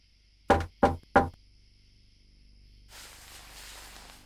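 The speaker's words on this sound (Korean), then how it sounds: "문을 두드리는 소리에 난 힘겹게 눈을 떴다" Three crisp, evenly spaced knocks on a door ring out as a sound effect in a Korean horror audiobook, followed by a soft hiss of ambient noise.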